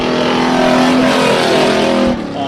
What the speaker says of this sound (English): that thing is doing more revving than going